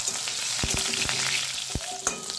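Eggplant fries in hot oil with a steady, fairly loud sizzle, broken by a few sharp clinks and scrapes of a utensil against the pan.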